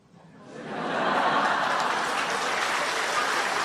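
An audience at a Buddhist Dharma talk by a senior monk breaks into applause, swelling from quiet to a full, sustained round of clapping from many people with a few chuckles mixed in.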